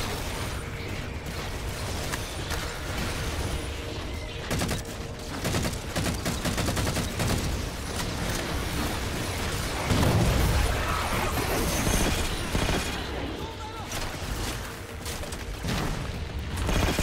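Heavy gunfire from Halo 4 rattles in constant rapid bursts, with mechanical clatter and a few heavier booms, loud and busy the whole way through.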